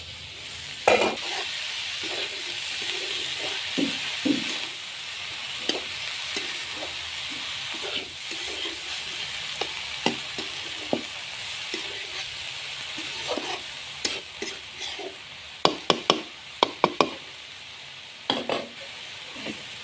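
Leafy greens hit a hot pan of already-fried lentils, giving a steady sizzling fry with scattered stirring and utensil clinks, a few sharper scrapes near the end.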